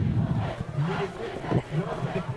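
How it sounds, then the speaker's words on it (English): A Bradley Central high school football student section chants the "I Believe That We Will Win" cheer at halftime against Walker Valley, a rhythmic crowd chant heard at a distance. "we hear the Bradley Central student section with their "I Believe That We Will Win" cheer"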